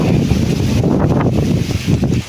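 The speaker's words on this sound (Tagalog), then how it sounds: "Malakas ang hangin." Strong wind buffets the microphone in a steady, heavy rumble that gusts and eases across the clip, with no talking.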